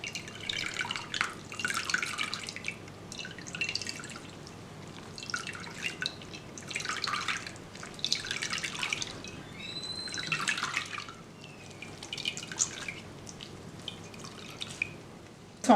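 Water trickles and drips steadily through cheesecloth from cassava pulp in irregular bursts, a soft wet patter close by with no voices.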